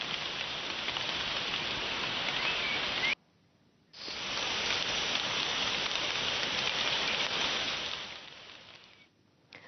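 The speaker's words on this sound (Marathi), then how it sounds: "मागच्या 2 दिवसांपासून जिल्ह्यामध्ये मुसळधार पाऊस सुरू आहे" Heavy monsoon rain pours down in Raigad district, Maharashtra, a steady dense hiss that cuts out briefly, returns just as strong and fades near the end.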